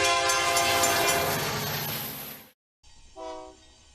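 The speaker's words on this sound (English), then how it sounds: "we observe a Union Pacific train slowly moving on one of the connector tracks" A Union Pacific train moves slowly on a connector track at Tower 26 in Houston, Texas, its loud, sustained horn blaring close by, cutting off, then sounding again more faintly over a low rumble.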